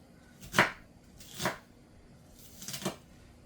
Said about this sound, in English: I have a lot of onions to chop.